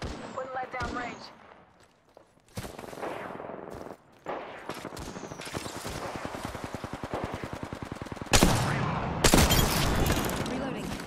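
Rapid bursts of automatic gunfire from a video game shootout crackle steadily for several seconds, broken by brief pauses, with louder close blasts near the end.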